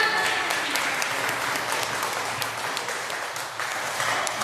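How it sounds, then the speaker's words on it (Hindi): Audience applause at a school Independence Day event breaks out for a teacher called to the stage, a steady moderate clatter of many hands continuing throughout. "सर के लिए जोरदार तालियां।"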